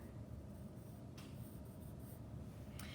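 Pen or pencil strokes scratch across paper while sketching future-self drawings, a steady soft scraping with a few brighter strokes, close and quiet with no talking.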